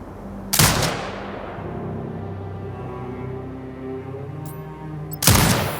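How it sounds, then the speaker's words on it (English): Automated turret in a video game firing on hostiles: two loud, sharp gunshot blasts at the start and near the end, separated by a low rumbling hum with a faint tonal drone. "Exit binocular mode and command the turret to fire."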